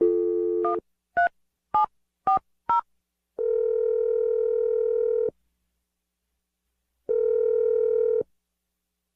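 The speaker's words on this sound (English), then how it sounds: "I'm going to dial the phone number right now" A telephone is dialed, giving a short tone followed by five quick separate keypad beeps, then two long steady ringback tones separated by silence, clear and close with no talking.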